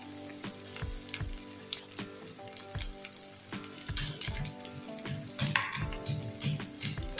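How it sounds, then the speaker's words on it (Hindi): Cheesy heart-shaped cutlets shallow-fry in a small amount of oil, a continuous bright sizzle close by, punctuated by soft regular bumps and scrapes from turning or nudging them in the pan. "इस तरह से मैंने इसे फ्राई करना है। इतने कम ऑयल में इतने अच्छे से ये कुक हो जाएंगे।"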